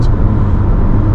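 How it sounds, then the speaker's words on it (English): A 2023 Honda HR-V with a CVT transmission, heard from inside as a steady, loud engine and road drone with an even, continuous hum and no voices. "So what you're hearing there is that CVT transmission"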